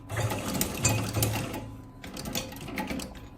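A sewing machine stitching a bag strap, running in short bursts of rapid mechanical stitching with a brief pause in the middle, fairly close and moderately quiet.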